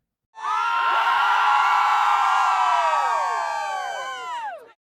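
A burst of high, squeaky cheering from a crowd of deer mice in a children's bedtime story, many shrill voices whooping together loudly for a few seconds before tapering off.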